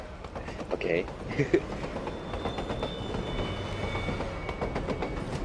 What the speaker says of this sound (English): Dude, that train's so derpy.